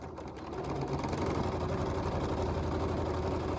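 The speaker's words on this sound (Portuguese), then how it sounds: "eu vou unir aqui e passo uma costura de 1 centímetro também" A sewing machine runs a 1 cm seam on a layered blouse, its motor whirring steadily and close after a brief start, without pauses.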